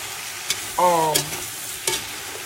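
A utensil scrapes a few times through food in a pan, with a brief squeaky, sizzling rasp between quiet pauses. There are no voices.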